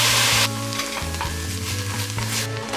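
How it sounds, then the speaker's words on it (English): Onion cooking down in veggie broth for a plant-based ramen soup gives a steady bubbling sizzle with occasional stirring clinks, heard alongside a soft musical tone. "I'm just cooking down an onion in some veggie broth."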